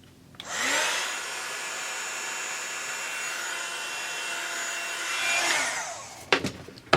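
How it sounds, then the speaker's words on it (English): A heat tool blows steadily for about six seconds while melting embossing powder on a paper craft, a close, loud whooshing hiss, followed by a few clicks as it switches off. "I've got my heat tool. I'm going to apply a bit of heat and it's going to get noisy."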